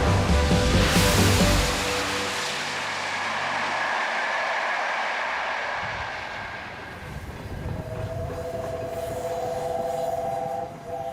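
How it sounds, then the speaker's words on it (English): The Peppercorn-class A1 Pacific steam locomotive Tornado rumbles and roars past up close, loud at first, then a steady mechanical drone and a faint sustained tone as it continues. "A steam locomotive on a mission."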